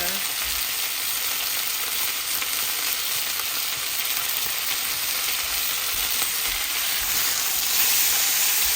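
Kung Pao shrimp fries and is stirred in a hot pan, giving a steady, close, dense sizzle that holds unbroken throughout, with no talking.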